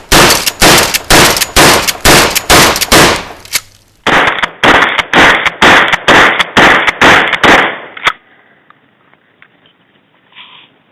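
A Mossberg 500 pistol-grip 12-gauge shotgun with a 20-inch barrel fires in two rapid strings of about eight loud, close blasts each, evenly spaced, followed by a quiet tail of faint handling noise.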